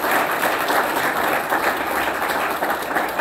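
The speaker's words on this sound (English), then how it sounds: "So please give them all a round of applause." Enthusiastic audience applause at a city's State of the City address, a full room clapping loudly and steadily for a few seconds with no break.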